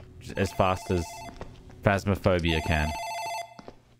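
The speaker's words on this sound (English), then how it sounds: "I think that's the phone in the office ringing." An office telephone rings in a video game, repeated bell-like trills heard beneath someone talking loudly throughout.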